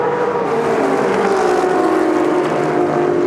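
Racing cars including a drifting Shelby and a Ferrari coming out of the last corner at Sonoma Speed Festival, a loud sustained engine roar with a slowly falling pitch as a car passes, no talk.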